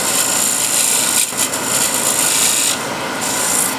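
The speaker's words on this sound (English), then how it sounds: "just blending two curves, and I can here use shear scraper" Steady, continuous rasping of a shear scraper shaping and blending curves on a wooden offcut, close and loud, a dense scratchy texture with a brief lift in the middle and no voices.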